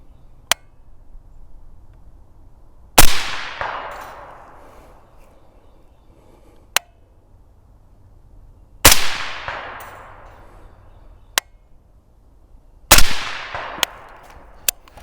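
Three gunshots ring out, each followed by a faint delayed clang of the bullet striking a 16-inch steel plate about 165 yards away, with sharp distant pings between the loud reports in quiet outdoor air.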